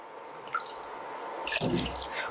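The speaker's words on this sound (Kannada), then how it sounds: "ಅದಕ್ಕೂ 1/4 ಕಪ್ ನೀರು ಹಾಕ್ತಾಯಿದ್ದೀನಿ." Water poured from a cup into a cooking pot for rava upma gives a short splashing burst in the second half, after quiet dripping at the start.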